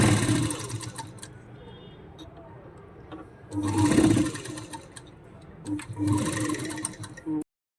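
A sewing machine runs in bursts while stitching a Rajputi poshak blouse, with a steady mechanical whir swelling louder twice and stopping abruptly at the end.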